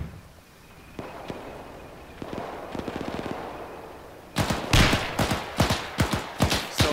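Gunfire in a military shooter game, with soft scattered pops early on, then a loud series of sharp, close shots and blasts in quick succession near the end.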